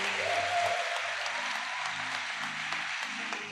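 Congregation applauding at a church conference, a dense sustained clapping from many people with faint musical tones underneath, steady throughout.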